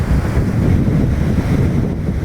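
Strong wind roars into the microphone over crashing surf on a beach as Typhoon Auring hits Siargao, a dense, steady low rumble of gusts and waves with no pause.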